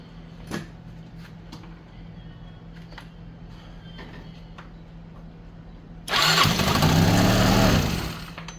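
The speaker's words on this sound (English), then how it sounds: "I'm going to crank it just for a second to seat this belt." A Yamaha Vino 125 scooter engine with its case open cranks over briefly, a loud close whirring churn lasting about two seconds after a stretch of quiet, small clicks and handling noises.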